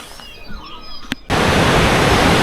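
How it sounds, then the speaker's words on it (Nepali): Rushing water of the Tamor river, a clear mountain river flowing down from the China side, comes in suddenly as a loud, steady broadband roar after a quieter stretch of faint background. "यो यताको यो चाहिँ तम्बर खोला हो, चाइनातिरबाट आउँछ।"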